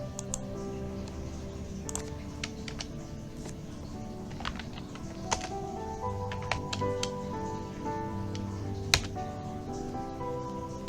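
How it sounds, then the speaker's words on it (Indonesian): Someone types on a computer keyboard while configuring a router, giving sparse, quiet key taps over a steady background hum. "Kita ketikkan di sini"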